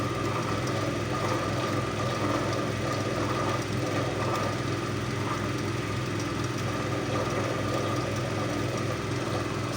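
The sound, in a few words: universal AC series motor running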